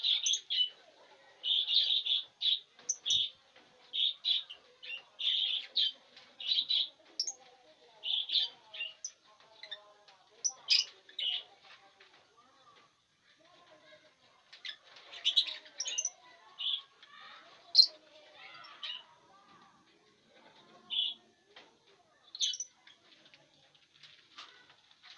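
Cobalt lovebirds chirp and call repeatedly in a colony cage, with bursts of sharp high tweets coming in clusters and pauses, fairly close, with faint flutter and movement beneath.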